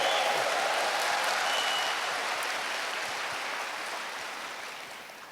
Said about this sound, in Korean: 다시 한번 우레와 같은 큰 박수 부탁